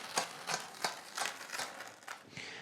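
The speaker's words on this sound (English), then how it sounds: "we're cutting down to roughly the same level that we've peeled out layers to" A knife slices through foam to cut down a toolbox insert for a big red Clarke toolbox, making a close, steady run of short rasping strokes roughly three per second, with no talking.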